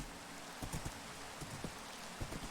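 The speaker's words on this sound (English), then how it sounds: "Good that it's raining." Soft rain patters steadily in a video game, faint and even, with a few slightly louder drops and crackles scattered through it.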